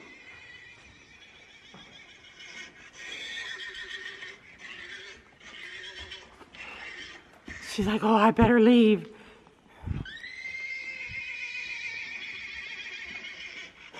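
A recording of horses neighing is played aloud to live horses, one loud whinny rising and falling in the middle, with people talking before and after and faint hoof shuffling.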